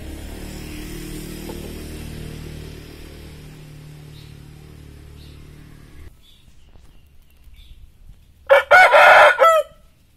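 A Bangkok breed rooster crows once near the end, a loud close crow in a few bursts after a stretch of low background hum and quiet.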